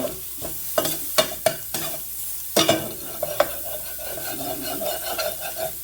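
Meat frying in a pan as it renders its grease, a steady sizzle broken by several sharp scraping and stirring knocks from a utensil, close and moderately loud.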